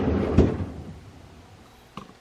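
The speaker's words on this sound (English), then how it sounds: "To open it up, pull the handle up and pull the drawer off" Bottom freezer drawer of a Samsung French door refrigerator pulled out, a soft sliding thump near the start followed by a faint quiet stretch and a small click near the end, up close and quiet.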